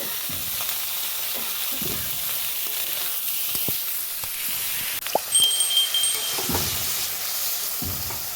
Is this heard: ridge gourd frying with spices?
yes